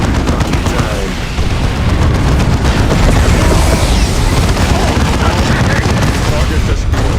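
Dense, loud battle noise from Dawn of War II Chaos Rising, with continuous gunfire, booming explosions and rumbling combat, with unit voices calling out over the din.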